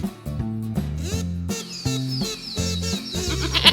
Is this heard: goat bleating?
yes